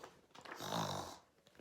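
A voice imitates a dog snoring in one drawn-out, loud, rasping snore that swells and fades, read aloud as part of a children's picture book story.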